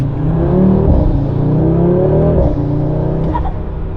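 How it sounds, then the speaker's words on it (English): A 2024 Audi RS3 engine with an MST intake drones and revs under load, then the throttle lifts and a brief turbo blow-off whoosh releases as the engine note drops. "the blow off when you let off"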